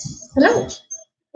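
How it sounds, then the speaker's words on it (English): Dogs fighting: a dog yelps and growls in a short snarling burst close by, while a person briefly speaks a greeting. "where you can hear my dogs fighting in the background."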